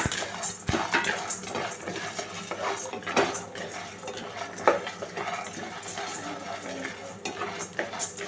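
A protein laddu mixture is roasted and stirred in a pan, with a spoon scraping and clinking steadily against the metal under a faint sizzle, close by and continuous.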